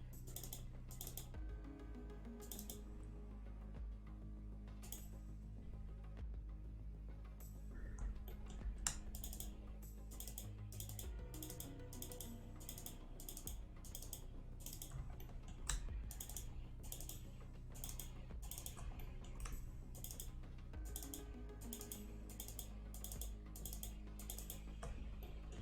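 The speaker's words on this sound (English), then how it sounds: "What I'm doing is just double clicking." Rapid computer mouse and keyboard clicks from someone working on 3D game artwork, close and quiet, coming in irregular bursts and clusters of sharp ticks over a low steady hum.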